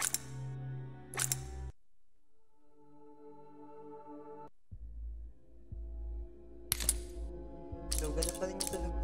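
Menu click sounds and tones from the PS4 The Last of Us Part II dynamic theme, with brief sharp clicks over soft sustained musical notes, alone without talk.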